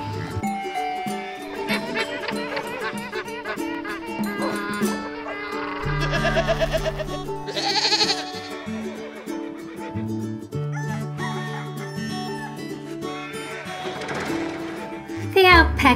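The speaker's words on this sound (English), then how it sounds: "Here come the alpacas and goats." Goats on a farm bleating among other farm animals, a few wavering calls rising over a busy mix of animal noises, with a voice talking at times.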